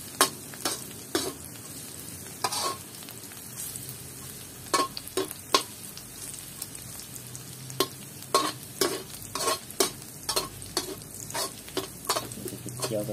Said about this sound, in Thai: เคี่ยวให้มันหอมก่อนพี่น้อง